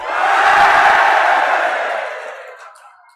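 A crowd of farmers at a gathering roars and cheers in one loud swelling shout that fades away over a few seconds.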